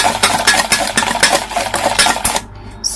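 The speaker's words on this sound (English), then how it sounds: "I'm going to go ahead and use my whisk to mix this" Whisk stirring a croissant dough mixture in a bowl, a quick steady rhythm of wire strokes scraping and clinking against the bowl, close and fairly loud, stopping abruptly near the end.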